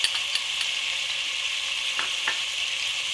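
Chicken sizzling and frying in a pan with tomatoes, salt, red chili powder and green chutney paste for almond (badami) chicken, a steady close hiss with a couple of brief stirring scrapes.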